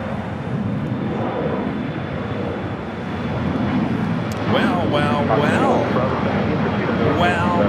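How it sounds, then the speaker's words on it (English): A Qatar Airways Airbus A350-1000 departing from LAX toward Doha, a broad, sustained jet engine roar that builds gradually, with wind buffeting and someone talking over it. "The Big Q heading back to Doha, flight 742 in this A350 1000, usually a south side departure on 25 right"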